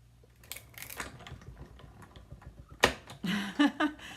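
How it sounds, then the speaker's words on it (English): Die-cutting machine cranked through with an extra cutting mat on top: scattered clicks and ratcheting taps from the handle, then a sharper crunch followed by a few louder grinding clunks as the plates pass through, close by. "Put the extra cutting mat on top, crank it through."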